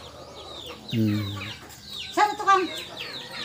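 Chickens cluck and squawk nearby in a short burst of several calls, with a person speaking briefly between them.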